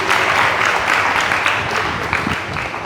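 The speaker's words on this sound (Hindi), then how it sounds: "जोर से तो ताली दो महाप्रभु" An audience claps steadily throughout a morning devotional Harikatha discourse in Hindi at a Gaudiya Math, a dense, continuous patter of many hands at fairly high volume.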